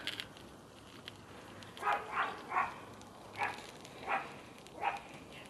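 A dog barks six times in a loose rhythm, each short bark moderately loud and a little distant, over a quiet indoor background.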